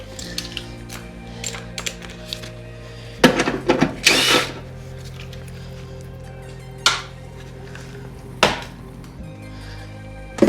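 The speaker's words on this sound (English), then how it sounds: "Just need to get this little bolt out of here." Power tool, likely a drill or impact driver, removing a bolt while fitting an engine bracket during an engine and transmission swap: short loud bursts of whirring and rattling separated by quiet gaps, with clanks of metal between.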